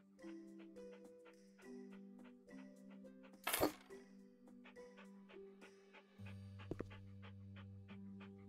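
A dog pants in the life-sim game House Flipper, a soft breathy rhythm sitting under steady tonal background music with occasional clicks, with one brief louder burst midway.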